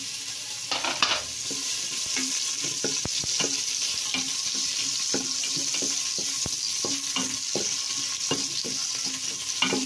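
Ginger frying in a pan makes a steady, close sizzling hiss throughout, punctuated by frequent light scraping and tapping clicks from stirring.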